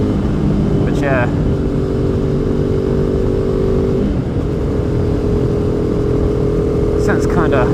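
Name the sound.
KTM RC390 single-cylinder motorcycle engine riding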